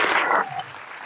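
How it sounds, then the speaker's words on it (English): Audience applause for a film jury member at a live film event, a brief burst of clapping that quickly fades out. "Can I get a round of applause for Tom Elswijk?"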